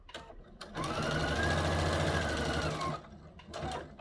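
A sewing machine fitted with a top stitch needle runs in one steady burst of about two seconds, a loud, close, even whirr with quieter handling sounds before and after.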